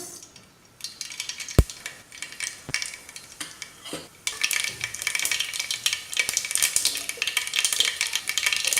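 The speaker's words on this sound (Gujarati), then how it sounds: "રાઈ આ રીતે ફૂટવા લાગે" Mustard seeds crackle and pop in hot oil in a pressure cooker, building after a few sharp clicks into a dense, steady sizzle of small bursts close by.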